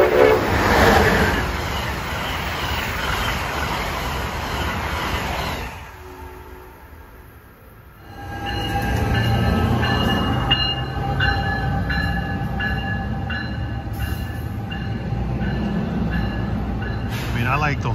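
An Amtrak train runs past on the Northeast Corridor, loud and close, with a steady rumbling roar, clattering rail car wheels and a brief lull partway through before the noise builds again.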